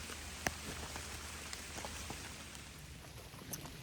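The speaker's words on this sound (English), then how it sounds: "Yep, it's raining." Steady rain patters on the Appalachian Trail in rocky Pennsylvania terrain after a heavy downpour, a faint, even hiss with a few sharper drops landing close by.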